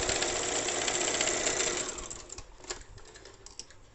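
A sewing machine runs a steady stitching burst along the side seam of a salwar for about two seconds, then slows and stops, leaving a few faint clicks and handling noises.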